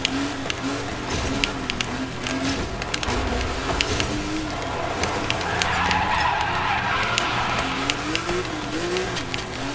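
Tires skid and slide in the DIRT 5 racing game at a gymkhana event in Cape Town Stadium, with a steady car engine drone underneath and wavering squeals rising and falling across the whole stretch.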